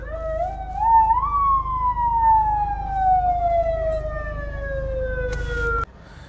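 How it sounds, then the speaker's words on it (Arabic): An ambulance siren in Inezgane, Morocco, rising and then holding a long, slowly falling wail, loud and close over low street rumble, cutting off abruptly near the end. "سيارات الاسعاف"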